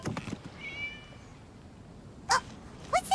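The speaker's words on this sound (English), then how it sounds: "It was just a cat." A cat meows in a game scene: a faint drawn-out mew followed by two short, bright meows near the end, heard alone over quiet background.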